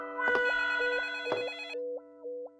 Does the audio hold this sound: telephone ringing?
yes